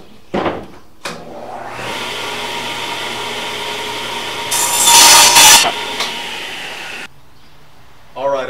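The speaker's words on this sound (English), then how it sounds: "so I can run it through the table saw" A table saw rips through a piece of wood, a steady loud whine of about six seconds that swells in the middle of the cut before the blade spins down, with brief bumps of handling noise before and after.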